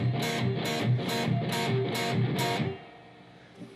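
An electric guitar with a gritty, driven tone strums its bottom three open strings in a quick rhythmic run of about six to nine hits, loud and close, before the sound drops away into quiet.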